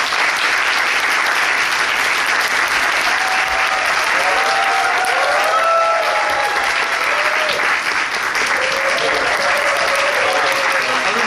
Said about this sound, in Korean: 오늘 공연했던 배우들을 박수로 모셔보겠습니다.